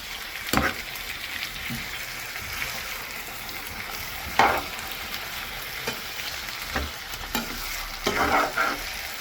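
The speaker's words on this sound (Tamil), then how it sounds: "கறி இப்போ எல்லாத்தையும் இப்படி போட்டு மிக்ஸ் பண்ணுவோம்" Squid curry stirred and fried in a pan, a steady sizzle of oil with scattered scraping knocks of a spoon against the pan, close and moderately loud, no talk.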